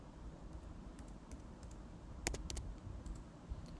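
Someone types a date into an Excel spreadsheet on a computer keyboard, a few quiet scattered key clicks with a short burst of sharper presses midway, in a quiet room.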